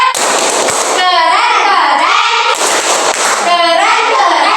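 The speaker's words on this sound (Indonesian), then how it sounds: "Beri tepuk keren dulu untuk kelompok auditori." A classroom group performs a rhythmic cheer clap. Loud clapping runs under children's voices chanting together in a rising and falling pattern, and it carries on steadily throughout.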